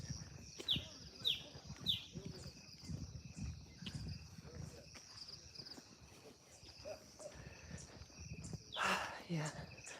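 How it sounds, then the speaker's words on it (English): Birds chirp outdoors in a mountain setting, a few short bright calls early on and another burst near the end, faint over wind and rustling, with a person talking intermittently. "Hear the birds?"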